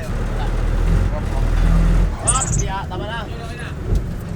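Jeepney idling in Manila street traffic, a low steady engine rumble that eases off partway, with people talking over it and passing street noise.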